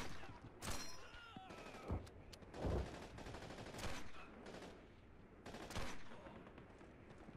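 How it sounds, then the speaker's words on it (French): A German machine gun in the Call of Duty 2 game rattles off repeated bursts of loud gunfire, interspersed with sharp single shots and brief pauses, with battlefield noise around it. "Mitrailleuse allemande, je vais le faire avec ça."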